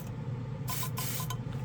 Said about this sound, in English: It kind of makes a noise. I'll show you what I mean. It's loud. Hear it?